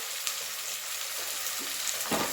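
Tomatoes sauté in a pan for chicken kulambu, giving a steady hiss and sizzle up close with a faint stir or scrape near the end.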